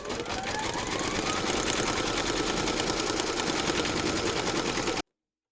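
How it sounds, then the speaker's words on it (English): An embroidery machine stitches an appliqué securing round on a hooped teddy piece, a steady rapid needle chatter running loud and close without a break for about five seconds. "Pop your hoop into your machine and stitch round number 5 to secure it in place"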